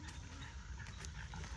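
A beginner dog out training at a community park pants steadily in quick rhythmic breaths, with faint whimpers mixed in, close to the microphone and fairly quiet without speech.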